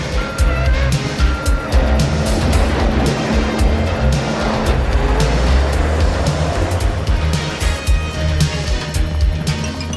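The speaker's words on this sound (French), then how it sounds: "Ce camion a l'air de s'être perdu, patron." Heavy rumbling vehicle engine from a cartoon about flying bear cubs and polluters, a truck approaching steadily and loudly with continuous low drone and noisy texture throughout.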